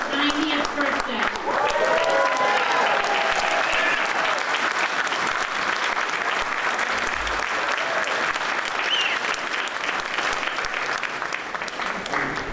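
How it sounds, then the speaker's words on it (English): Loud, sustained audience applause at a town business appreciation breakfast, steady clapping from a large crowd filling the room for the full length without a break. "an extra round of applause for her 90th birthday"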